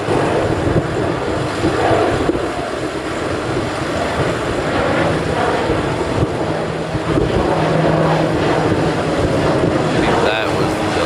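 A Delta airliner passing at Honolulu airport, heard as a broad steady roar mixed with wind noise on the microphone, with a voice talking over it.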